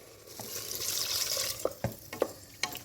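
Water hits chili powder frying in hot oil for a spicy beef curry, a broad hiss that rises and swells over about a second, followed by a few sharp clinks of a spoon stirring against the pan.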